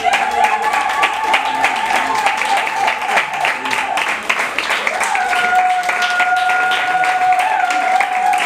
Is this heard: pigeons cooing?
no